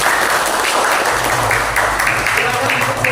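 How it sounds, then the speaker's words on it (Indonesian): A class breaks into loud, sustained applause on a countdown cue, a dense wash of clapping that fills the whole moment without letting up. "3, 2, 1 ditandai dengan tepuk tangan secara gemuruh"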